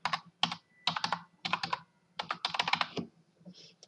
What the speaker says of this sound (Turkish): Hesabımızı adreslerimizi yazıyorum. Mesela ismimi yazıyorum.